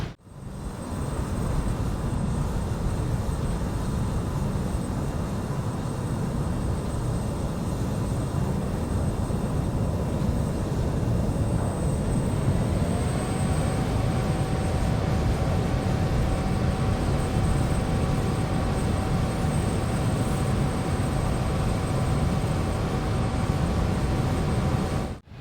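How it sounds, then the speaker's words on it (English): Just Flight RJ regional jet landing in Microsoft Flight Simulator, a continuous loud roar of jet engines and airflow with a steady tone that shifts partway through. "This plane likes to bounce when you land"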